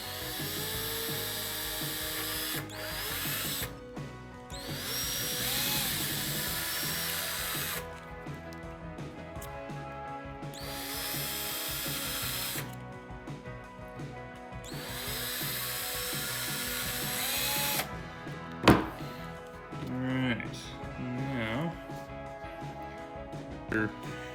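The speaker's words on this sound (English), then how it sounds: "Just gonna drill these holes a little bigger." A power drill enlarging holes in a 2002-2005 Ram climate knob area whines in several sustained bursts with pauses between them, and a few clunks and scrapes of work follow close by.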